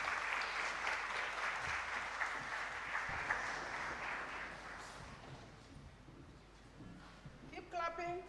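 An audience applauds steadily to welcome Kenya's Deputy President, Professor Kithure Kindiki, at a job fair at the University of Nairobi, the clapping fading somewhat before a voice speaks near the end.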